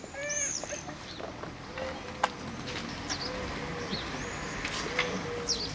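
Pigeons coo and chirp close by before a pigeon release at an outdoor May 8 commemoration ceremony, several soft repeated calls over steady crowd murmur and outdoor ambience.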